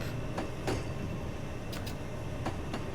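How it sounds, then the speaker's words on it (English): A full train passes in the Train Simulator 2020 game on the New Canaan branch, a steady rumbling rail noise with a few sharp clicks and clacks from the wheels. "And the full train is just about to pass."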